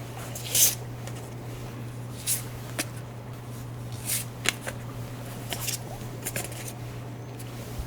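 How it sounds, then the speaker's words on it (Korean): Tarot cards are shuffled and drawn in soft, intermittent riffles, slides and flicks close to the microphone, with no speech over them. "추가 카드 3장을 뽑아보도록 하겠습니다."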